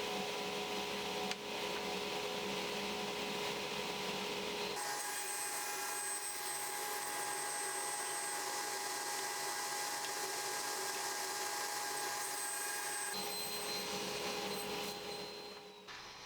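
A table saw drones steadily for the whole stretch while cutting planed boards to length for a box build, with a shift in tone partway through as the blade meets the wood.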